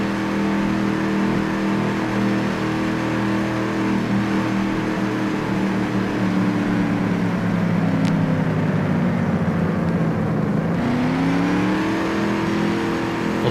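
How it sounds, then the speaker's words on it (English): A race car engine roars steadily from on board during a Grand Prix at Cleveland Airport, its pitch rising and dipping as it shifts and accelerates through a lap. "just let you guys listen to the car engine"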